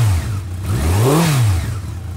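A 1985 Honda Nighthawk 650 motorcycle with a rubber-mounted four-cylinder engine revs up in one quick, smooth swell and falls back to idle, loud and close.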